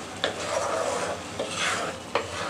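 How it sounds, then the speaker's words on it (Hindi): Sugar syrup boiling in a pan for shakkar pare and stirred continuously with a spoon, a close bubbling hiss broken by a few sharp scraping knocks of the spoon against the pan. "इसे चलाते रहेंगे लगातार"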